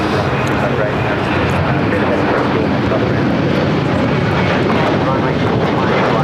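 A Boeing 747 airliner lands on runway 24 right at LAX, a loud, continuous roar of jet engines and rushing air, with a voice talking over it throughout.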